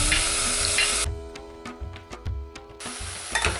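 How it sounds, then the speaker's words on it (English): Curry spices and tomato sizzle loudly as they fry in a pan for leftover chicken curry. Bursts of frying bracket a quieter stretch of short scraping stirs close by. "Give that a quick stir around"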